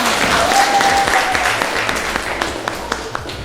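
Children in a classroom clap together in a loud, dense round of applause that gradually thins out toward the end.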